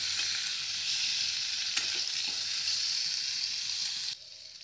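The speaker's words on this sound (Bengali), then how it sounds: "আলুগুলো হালকা করে ভেজে নেব।" Potatoes fry lightly in hot oil for a methi aloo dish, giving a steady, close, even sizzle with a brief soft clink partway through, then the hiss drops away abruptly near the end.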